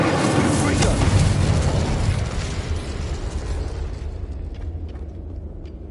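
An incendiary fire spell bursts in the Hogwarts Legacy video game, a loud, dense fiery roar and rumble that slowly dies away over several seconds, thinning into crackles near the end.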